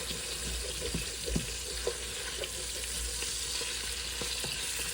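Italian sausage and garlic searing in a sauce pot, a steady close sizzle with occasional scrapes and knocks of a spoon stirring, no voices.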